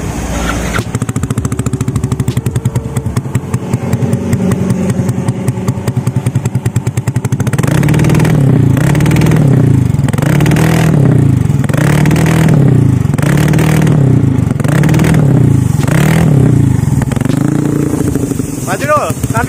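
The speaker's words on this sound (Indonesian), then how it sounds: "Sok dulu, geber-geber dulu. Nyalain." A Yamaha NMAX 180cc scooter fitted with a CLD C3 Bulet aftermarket exhaust idles loudly and steadily, then is revved repeatedly in rising and falling bursts at close range.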